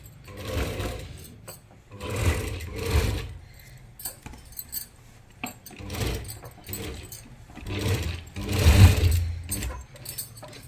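Sewing machine running a second line of stitching on a simple suit, about 1.25 inches from the first seam; several short bursts of motor whirring with brief pauses between, close and moderately loud.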